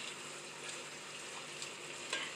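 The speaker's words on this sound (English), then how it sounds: "And I'm just going to saute this." Chopped vegetables sauté in a pan for cornbread dressing, giving a steady, fairly faint broadband sizzle with a few brief stirring clicks and no talking.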